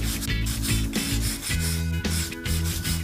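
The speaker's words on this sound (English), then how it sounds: "Clean the joint surfaces." Sealant joint surfaces get rubbed and cleaned with a coarse, rhythmic scraping, in short back-and-forth strokes repeated close up.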